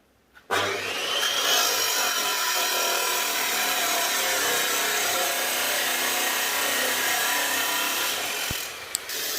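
A 60mm slice being cut from 50 by 5 flat steel bar, a steady continuous rasping, grinding cut running close and loud for several seconds before stopping abruptly, with no talking.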